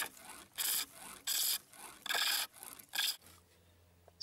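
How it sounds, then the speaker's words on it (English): A roughing out gouge shaves draw-knife marks off a wooden workpiece spinning on a pole lathe, giving five or six loud rasping strokes in an even back-and-forth rhythm, close up, with a low hum and quiet pause after the last stroke. "Using a roughing out gouge now to remove all the draw knife marks."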